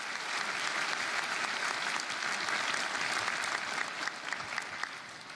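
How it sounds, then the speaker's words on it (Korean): A church congregation applauds warmly after a musical performance at a New Year's Eve service, steady dense clapping that holds for several seconds and then thins slightly toward the end. "멋진 무대를 보여주신 민상민 성도님과 엠미주에게 뜨거운 박수 다시 한번 부탁드리겠습니다."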